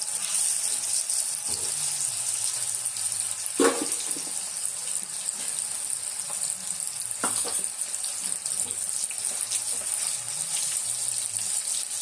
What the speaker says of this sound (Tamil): இந்த எண்ணெயிலேயே நம்ம இந்த இறாவை போட்டு பொரிச்சு எடுத்துக்கலாம்.